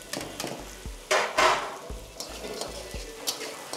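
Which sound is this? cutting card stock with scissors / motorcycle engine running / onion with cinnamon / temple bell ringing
onion with cinnamon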